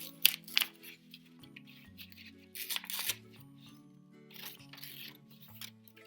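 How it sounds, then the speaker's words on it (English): Tape being peeled and handled on a craft model of an Australian green tree python, with a few bursts of crinkly rustling and tearing over a faint background tone, no speech. "So I'm going to take the tape off."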